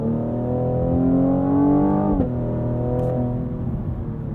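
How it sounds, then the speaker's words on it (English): A 2020 Cadillac CT5-V engine revs hard in launch control with a steady exhaust roar, pitch climbing then dropping briefly before building again, loud and close, no talking. "The exhaust sounds like it was launch control."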